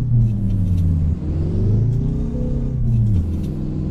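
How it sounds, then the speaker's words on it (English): A Peterbilt 281 truck's engine in American Truck Simulator rumbles loud and steady, a deep droning idle that rises and falls in pitch as it revs, with no voices over it. "Listen to that engine, that is awesome."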